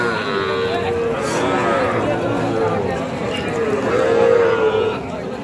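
Cattle low repeatedly at a crowded, rain-soaked livestock market, several long moos rising over a constant murmur of talking buyers and sellers, with hoof and crowd noise in the background.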